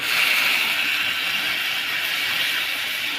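A little water hitting a hot pan of spiced fried snails, releasing a loud, steady, broad hiss of steam that holds evenly throughout without any talking.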